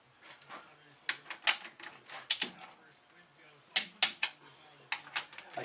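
Quiet, crisp ratcheting clicks come in short bursts during an ATV top end rebuild on a 660 Rhino, as engine bolts with cleaned, oiled threads are tightened, the bursts separated by brief pauses.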